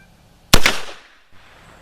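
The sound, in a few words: rifle shots, 7.65x53 Mauser with Lyman 311413 cast bullets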